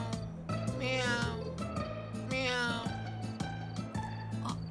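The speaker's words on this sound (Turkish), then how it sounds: "Kedi kedi miyavlıyor işte" A cat meows a couple of times over a steady musical tone, with voices nearby.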